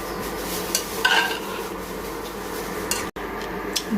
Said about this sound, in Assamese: মাংসখিনি এনেকৈ মই লৰাই 20ৰ পৰা মই 25 মিনিট সময় ভাজি ল'ম।